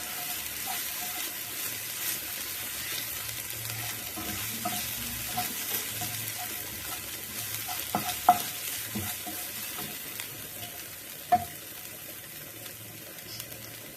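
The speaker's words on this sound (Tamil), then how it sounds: "வெங்காயம் நல்லா வதக்கிடுது." Onions sauté in a pan with soft, steady sizzling, occasional stirring scrapes and light clinks of a utensil, fairly quiet and continuous.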